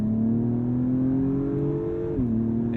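A 2021 Acura TLX Type S with all-wheel drive pulls hard in a launch-control start, its engine drone climbing steadily in pitch, then dipping briefly at a gear change before pulling again, loud and close throughout.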